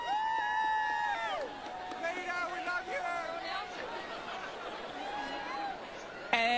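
Adoring crowd at The Hobbit world red carpet premiere in Wellington, a steady close murmur of chatter and excited voices with scattered laughter and calls running throughout.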